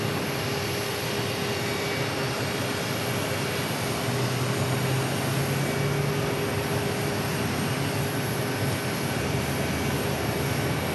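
A jet arriving from Minneapolis at Phoenix Sky Harbor produces a continuous loud engine roar with a steady whine, unbroken and alone across the whole stretch.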